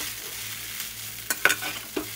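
Maggi noodles with boiled vegetables fry in a pan with a steady low sizzle, while a utensil stirs and scrapes with a few sharp clacks toward the end.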